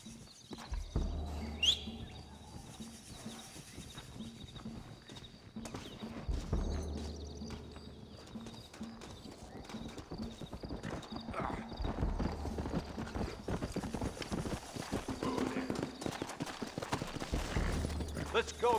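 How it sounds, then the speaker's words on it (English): In the Red Dead Redemption video game, horses clip-clop in a steady trotting rhythm close by, with an occasional whinny, while characters talk over the hoofbeats. "Looks like Carlos left us some horses."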